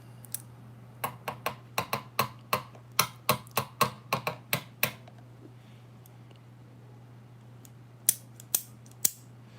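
A hair clip snapping shut and open again and again, sharp dry clicks in a quick uneven run, then a pause and a few more scattered snaps, close and crisp over a steady low hum.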